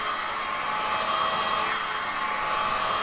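A heat gun blowing hot air over resin artwork, a steady, close, even whooshing roar with no breaks and no voices.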